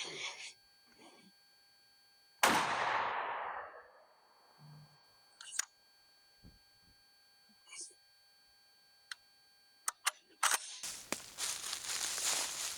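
A shotgun fires a budget turkey load at a target 20 yards away, one sharp loud blast with a decaying tail, followed by faint clicks and handling sounds before rising noise at the end.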